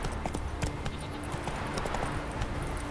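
Roach the horse trotting in The Witcher 3, a steady run of hoof clip-clops over a constant ambient game bed with faint music-like tones, fairly close and continuous throughout.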